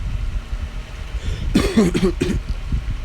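A short burst of coughing, a couple of quick rough hacks close to the mic, over a steady low rumble of background noise.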